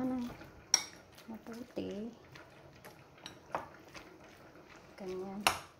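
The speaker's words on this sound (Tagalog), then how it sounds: "Ngayon imimix natin siya ng mabuti para magiging malasa yung karne." Ground meat filling for lumpiang shanghai being mixed in a bowl, with scattered clinks and scraping knocks of a utensil against the dish, irregular and close, under someone speaking throughout.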